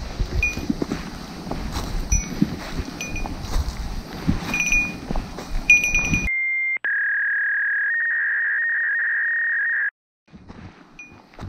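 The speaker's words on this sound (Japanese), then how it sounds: "ここでなんと仕事の電話がかかっております。" A mobile phone rings with an incoming work call during a hike up the final climb to Gotenyama summit in Minokamo; a steady electronic chirping ring tone cuts in loudly after wind and outdoor rustle, holds for about three seconds, then stops.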